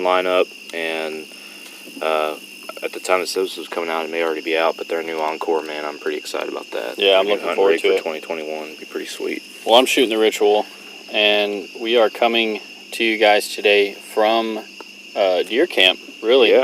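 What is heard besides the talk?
crickets chirping at night at deer camp in Texas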